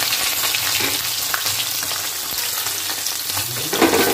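Koi fish sizzling as they fry in hot oil for a shahi koi recipe, a loud, steady crackle and hiss that fills the whole stretch with no talk.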